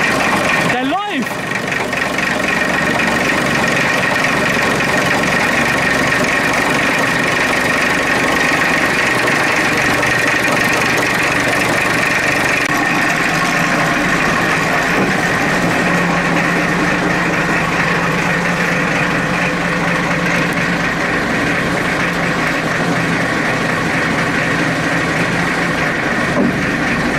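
A Kaelble diesel engine, restarted after eight years without running, idles loudly and steadily in a continuous rumbling drone, with voices talking over it.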